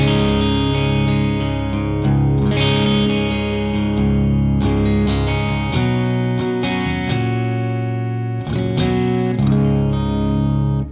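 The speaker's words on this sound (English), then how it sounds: "this is the sound of the guitar, straight in" Electric guitar played straight into Soldano and VX100 amps with a crunchy, overdriven tone, sustained chords ringing continuously and loudly with fresh strums and no talking.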